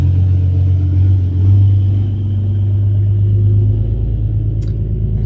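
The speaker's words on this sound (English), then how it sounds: "Sorry if you can hear that truck" A diesel truck rumbles past on a nearby road, a loud, low, continuous drone that swells slightly and then eases off, heard alone with no talk over it.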